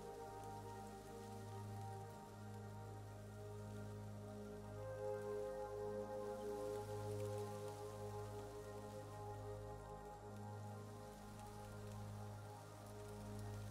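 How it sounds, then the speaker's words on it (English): Soft, continuous patter of falling leaves landing on water and grass, faint and even, set under a sustained low droning musical tone. "you listen to the gentle patter as the leaves fall, some patterning the water, others the grass"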